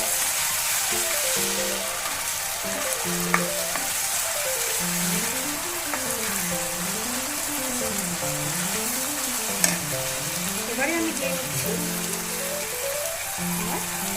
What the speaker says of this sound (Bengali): আমি দিচ্ছি রসুনের বাটাটা দিয়ে আবার সামান্য একটু নাড়াচাড়া করে নেব